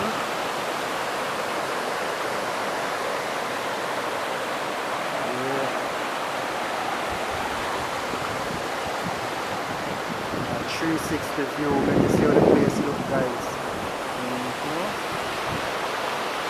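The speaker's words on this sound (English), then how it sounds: "Hear the nice flowing river." Hope River in Garden Town, Jamaica rushes steadily nearby, a loud continuous broadband wash of flowing water, with someone talking over it briefly.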